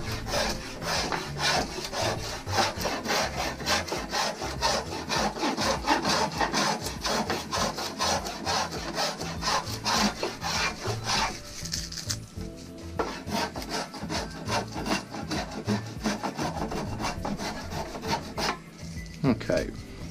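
A yew longbow stave is roughed out by hand with rapid rhythmic rasping strokes across the wood, close and continuous, pausing briefly partway before the scraping resumes.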